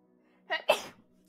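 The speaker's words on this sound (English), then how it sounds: "So I need to sneeze 1 second." A single close sneeze, a quick sharp intake followed by a burst, in an otherwise quiet room.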